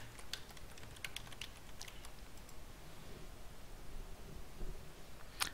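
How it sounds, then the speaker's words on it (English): Quiet computer keyboard typing while entering login credentials on a Windows Server 2019 machine: scattered light key clicks in short bursts over a steady background hiss, no talking. "I'm going to type my credential here."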